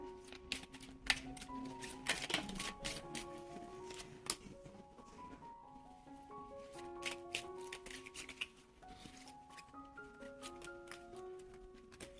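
Oracle cards are shuffled close by in a quiet room, giving quick rapid riffles and light flicks and taps. A soft tonal ringing runs underneath.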